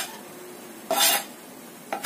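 Garlic goes into a small amount of not-yet-hot oil in a pan, giving two short, close bursts of hissing sizzle against quiet background hiss.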